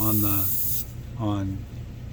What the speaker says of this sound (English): I'm painting here first, right here, so this way I can test out the paint to see how it's flowing